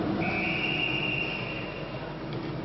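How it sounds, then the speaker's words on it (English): A referee's whistle at a 1994 World Cup match between Canada and Germany blows one long sustained blast over steady crowd noise in a large stadium. "And another whistle on the play as play breaks down in the Canadian zone."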